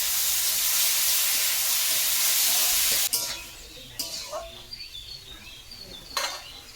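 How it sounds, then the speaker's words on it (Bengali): Tomatoes tipped into very hot oil with panch phoron in a karahi: a loud continuous sizzling hiss that cuts off abruptly, followed by clanks and scrapes of a utensil against the pan. "পাঁচফোড়ন দিয়ে টমেটোকে ঢেলে দেবো। যেহেতু কড়া কিন্তু অনেক গরম হয়ে গেছে"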